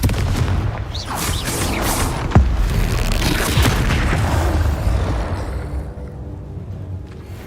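A Confringo explosion spell goes off in Hogwarts Legacy as a loud, booming blast with a sharp crack, then a long rumbling tail that fades out.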